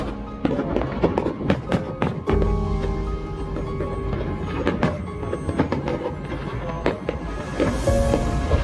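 Fireworks popping and crackling as the Queen Anne cruise ship departs Southampton on its maiden voyage, a dense run of sharp bangs over a loud rumble of wind and engine noise.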